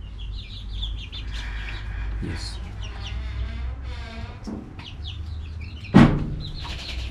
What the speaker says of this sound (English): So inside here we have 50 birds, which are really doing good.